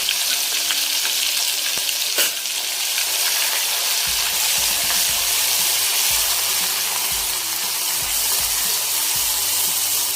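Masala sizzles and fries steadily in a pan while it is stirred, a dense close hiss with occasional scraping; no one talks, and the dish is a modak amti for Ganeshotsav.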